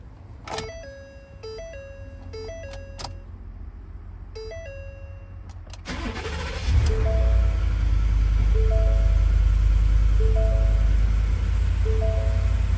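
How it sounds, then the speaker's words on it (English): A 2018 Ford F-150 XL Supercab with a 5-liter V8 is started with a key: chimes and a warning tone sound first, then the engine cranks and catches into a loud, steady idle rumble while the chime keeps repeating. "To start, all you need to do, insert the key and turn it."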